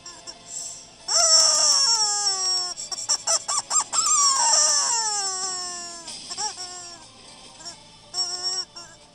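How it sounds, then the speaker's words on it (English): A game chicken squawks and clucks in loud, wavering complaining calls, a long burst of rising and falling cries followed by shorter choppy squawks, heard alone without talk. "That is one complaining chicken."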